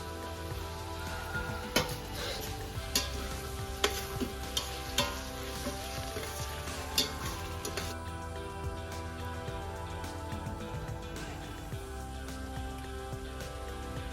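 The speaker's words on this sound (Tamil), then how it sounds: "தக்காளி ஆட் பண்ணி ஒரு 2-3 மினிட்ஸ் நல்லா வதங்கிட்டோம்." Tomatoes sautéing in a pan: a constant close sizzle with scattered clinks and scrapes of stirring, no speech.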